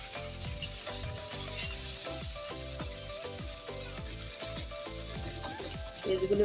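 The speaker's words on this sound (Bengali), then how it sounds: "দিয়ে ভালো করে নেড়ে চেড়ে পেঁয়াজ আর কাঁচামরিচটা তেলের সাথে ভেজে নেব।" Onion and green chilli are stirred and fried together in oil in a pan. A steady hiss runs under repeated scraping and rubbing from a spatula, close and fairly loud, with no voices.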